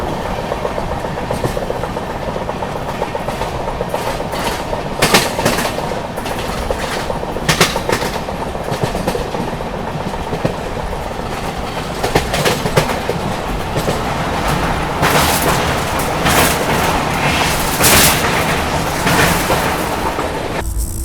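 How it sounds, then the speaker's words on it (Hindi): Wheels of the 12615 Grand Trunk Express, an ICF-rake train, clatter loudly and continuously over the track near Gudur Junction, with repeated rhythmic clacks and a steady heavy rumble heard from on board. "क्या ट्रैक साउंड आया है"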